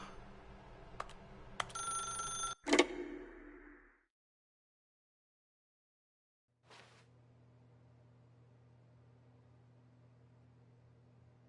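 Telephone ringing in a video game, a short burst of ringing tones with clicks at the start, then silence and a low steady hum.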